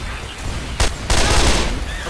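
Gunfire in the zombie shooter Left 4 Dead 2: two sharp bursts of shots crack out over a constant roaring background, loud and close, the second burst longer and rumbling.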